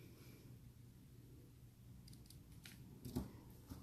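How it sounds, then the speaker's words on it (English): Scissors trim a teeny tiny ribbon bow for a handmade card, a few quiet, crisp snips landing close by near the end over a soft room hush. "And we'll trim it down."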